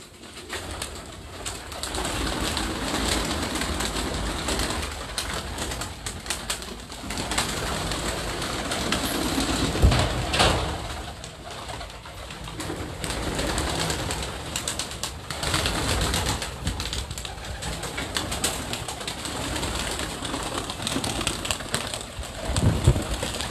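Pigeons on a rooftop in Larkana, Sindh, coo steadily and continuously up close, with occasional bursts of wing flapping amid dense outdoor background noise.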